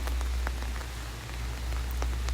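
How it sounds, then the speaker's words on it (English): Steady, dense rain pours down outdoors over a valley at Goit Stock and Hewenden Viaduct, a constant hiss with scattered louder drops striking nearby surfaces. "as the rain continues to hammer down"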